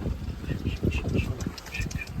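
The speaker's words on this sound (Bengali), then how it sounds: "আর পাখিগুলো দেখো এখানে খাবার দিচ্ছে বলে পুরো দেখো পুরো সামনে আমাদের কাছে চলে এসেছে পাখিগুলো" Ducks or similar waterbirds gathering close to be fed on Chilika Lake during a boat ride, giving repeated short quacking calls at close range over a steady low rumble of water and boat noise.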